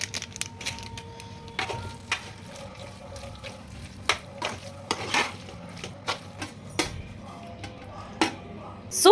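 Spoon stirring melted cheese and pepper powder through white sauce pasta in a pan, a series of close, soft scraping clicks and knocks at an irregular rhythm, with faint water or sink noise in the background.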